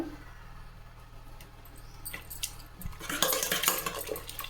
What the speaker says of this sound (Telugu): చక్కగా స్మాషర్తో టక్కా మెదిపేద్దాం